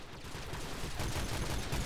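Rapid gunfire in the Modern Warfare 3 video game, a dense rattling burst of shots that grows louder and more intense, continuous with no speech.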